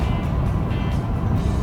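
A car with 115,000 miles and a downpipe tune cruises on the interstate, a steady low engine and road drone heard from inside the cabin.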